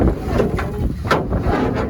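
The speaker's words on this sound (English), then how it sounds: "Windy out here." Gusty wind buffets a microphone outdoors beside a firewall repair job, a loud continuous low rumble with swelling gusts and no voices.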